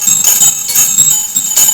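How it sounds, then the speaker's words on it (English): Chimes jingled during a witchcraft spell ritual, a steady bright shimmering tinkle that rings continuously and closely throughout. "And then what you do is you jingle the chimes."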